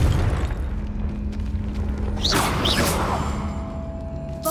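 A Confringo fire blast spell from Hogwarts Legacy bursts midway with a rushing whoosh and flaring crackle over a steady low rumble of game ambience and music, loud and close.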